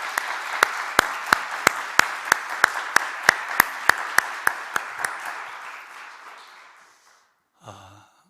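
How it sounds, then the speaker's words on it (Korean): A church congregation gives Easter Sunday applause: a broad wash of clapping with strong regular unison beats through about five seconds, fading out, then a short low voice sound near the end. "우리 하나님께 영광의 박수 한번 드리십시다."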